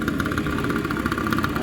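A motorcycle engine idles close by with a steady, loud, even throb that holds without change for under two seconds, no voices heard.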